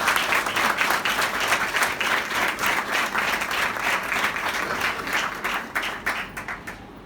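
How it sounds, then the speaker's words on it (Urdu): A church congregation breaks into sustained, enthusiastic applause, with many hands clapping steadily throughout before the sound tapers off slightly at the end. "اس ذات کے لیے بھرپور تالیاں بجائے"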